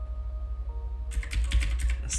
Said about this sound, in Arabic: نكتب مثلا تأليف محمد